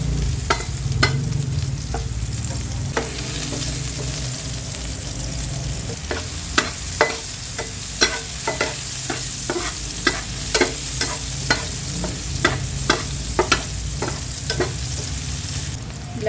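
Onions sizzle steadily in a little hot oil in a pan previously used to fry milkfish, with repeated spatula scrapes and stirring clicks ticking over the continuous frying hiss throughout.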